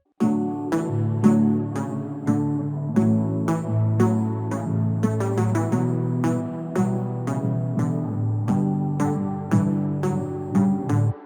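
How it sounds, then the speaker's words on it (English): Synth arpeggio and electric guitar playing together in a bright pop arrangement with large reverb, steady plucked rhythmic notes over sustained chords, close and loud with no voices. "And all together, both the arp and the guitar sound something like this."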